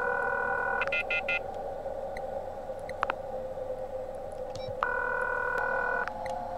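A phone call dials out in the horror game The Coma 2, with quick keypad beeps, two long electronic ringback tones separated by a pause and faint clicks, all fairly quiet over a low background hum.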